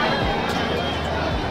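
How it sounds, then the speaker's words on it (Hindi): A dense crowd packs the Godowlia area of Varanasi, a constant close hubbub of many voices and footsteps at a loud, even level. "ये गधौलिया एरिया में इतनी भीड़ है, चलने के लिए जगह नहीं है भाई"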